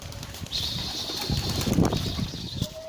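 A flock of pigeons takes off and flies, a flurry of flapping wings with a few soft coos, close by.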